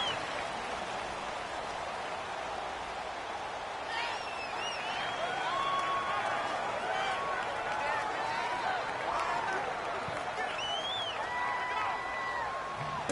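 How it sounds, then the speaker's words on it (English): Steady roar of a stadium crowd in Madden 19 during a simulated New York Jets versus New England Patriots game, a constant wash of noise with faint whistles and shouts on top, under a commentator talking. "The crowd's not doing that O-line any favors."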